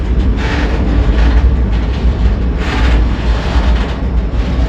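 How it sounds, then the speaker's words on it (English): A train rumbles steadily across a small bridge overhead, a loud continuous roar with faint rhythmic clatter rising and falling, heard from close below at a campsite. "we got a train above our head"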